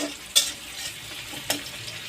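Onions sautéing in a pan for a bachelor's home-cooked Bengali dish, a steady low sizzle with two sharp spatula scrapes against the pan, close and clear with no talking.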